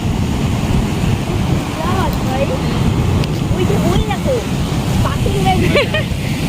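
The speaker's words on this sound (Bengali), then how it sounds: "কি সুন্দর আওয়াজটা দেখো সমুদ্রের" Rough sea waves wash in at Old Digha beach in the evening, a steady roar of surf and wind filling the whole stretch, with voices calling and chatting over it.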